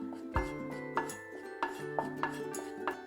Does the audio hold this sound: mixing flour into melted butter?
yes